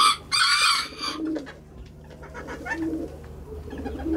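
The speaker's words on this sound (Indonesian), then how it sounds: "burung puter nih." Low, soft cooing from spotted doves repeats several times at a moderate distance, with a brief burst of louder bird noise at the start.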